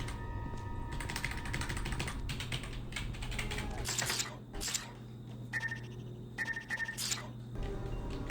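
Keys clacking on a partly broken computer keyboard, a close, irregular patter of sharp clicks in quick bunches with brief pauses, over a low steady hum.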